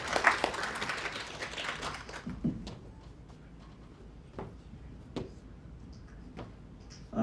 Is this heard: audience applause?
yes